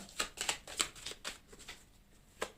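A deck of tarot cards is cut and riffled close by, a series of crisp papery flicks and slaps in an uneven rhythm, with a final snap after a short pause.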